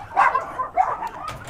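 Small dogs, chihuahuas among them, bark in short yapping bursts at a dog meat farm in Korea in winter, several sharp barks close by with faint whimpering between.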